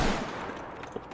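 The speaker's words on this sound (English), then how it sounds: "Oh no, I'm getting shot" Gunfire in a Roblox game set in South London, a short burst of rapid shots at the start followed by a few scattered single pops, fairly loud and close with no talk over it.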